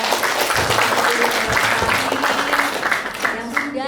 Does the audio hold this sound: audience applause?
yes